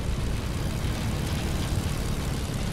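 Airplanes in a Fortnite Battle Royale air battle, a continuous low engine drone that stays steady and fairly loud for the whole stretch.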